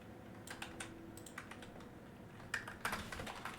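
Keys on a computer keyboard clatter in uneven bursts of quick, close clicks, with a few louder strikes near the end and no talking over them.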